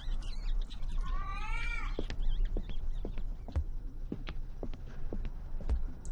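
A cat in a horror video game lets out one clear, drawn-out meow over a background of scattered clicks, taps and footstep-like knocks.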